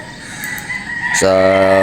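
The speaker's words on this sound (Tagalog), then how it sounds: "nilalatag na po namin dito yung aming mga alagang manok" A gamefowl rooster crows loudly and close by on a game farm in Batangas, one strong cock-a-doodle-doo rising out of quieter clucking and background farm sounds.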